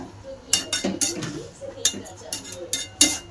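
A spoon stirs methi greens in a pot, giving repeated light metallic clinks and scrapes in an uneven rhythm, close by, with faint room noise between strokes.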